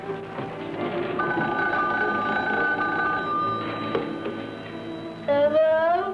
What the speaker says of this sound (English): Jamie, answer the phone, please.